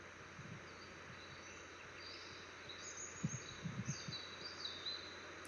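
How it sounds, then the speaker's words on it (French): Faint, thin whistles from small birds drift in from a distance in a forest, over a quiet background hiss, a few short calls in the second half. "on entend bien les petits sifflements d'oiseaux"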